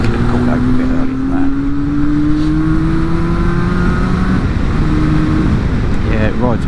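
Yamaha RD350LC two-stroke motorcycle pulls hard, its engine note rising steadily as it comes onto the power band, loud and close amid wind and road noise while a rider talks.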